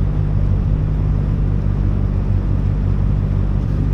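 A boat's engine rumbles steadily as it passes through a floating village in Cambodia. The low, continuous drone sits close and fairly loud, mixed with wind buffeting the microphone, and nobody talks.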